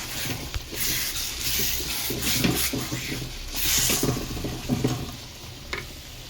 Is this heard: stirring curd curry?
yes